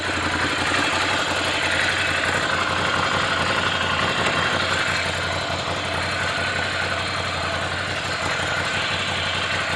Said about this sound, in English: that's a nice sounding muffler